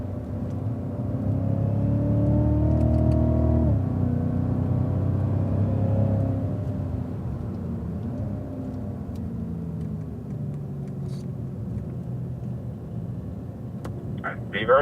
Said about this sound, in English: And accelerate, and upshift to 5th